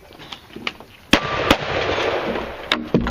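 Shotgun blasts at a cowboy action shooting match, two sharp reports close together followed by two more later, loud and near against outdoor background noise.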